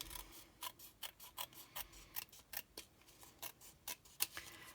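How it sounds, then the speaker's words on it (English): Scissors snip through card for a shaker card, about a dozen short crisp cuts in a fairly steady rhythm, close but quiet, with no voices. "snip into it if it doesn't quite line up"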